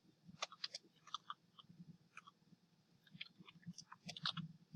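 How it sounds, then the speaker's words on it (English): A name is typed on a computer keyboard in short irregular clusters of soft, close clicks and taps, quiet and with no talk. "I'm going to type in my name."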